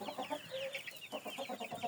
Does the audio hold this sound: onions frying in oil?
no